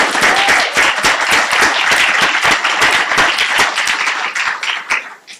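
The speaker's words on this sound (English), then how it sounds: "Please join me in giving Professor Alonso a round of enthusiastic applause." Loud, dense applause from a lecture audience for Professor Alonso, many hands clapping steadily and close for about five seconds before tapering off at the end.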